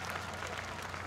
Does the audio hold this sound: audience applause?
yes